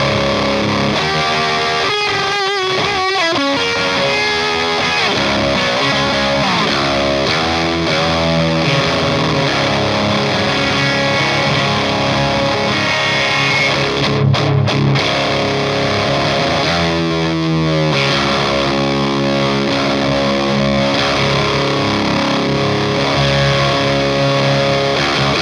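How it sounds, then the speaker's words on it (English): An electric guitar runs through a DOD Chthonic Fuzz pedal with the gain turned down somewhat, producing thick, buzzing distorted chords and single notes that ring loud and continuous with no voices. "Next up, we've got the Chthonic Fuzz by DOD as well"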